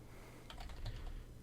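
Quick burst of keystrokes on a computer keyboard, a short cluster of faint, close taps.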